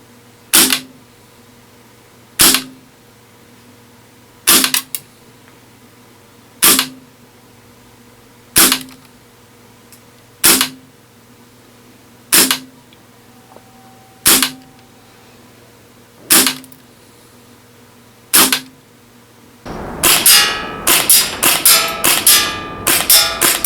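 PP-2K gas blowback airsoft SMG fired during an accuracy test: nine crisp single shots spaced about two seconds apart, then a rapid burst of closely packed shots at the end.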